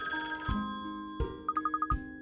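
A telephone in a detective video game rings in a quick series of bright, evenly spaced electronic trills, standing alone over a steady musical background with a few soft thumps.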